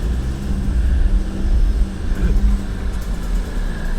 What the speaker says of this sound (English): But see, the wheels are clawing.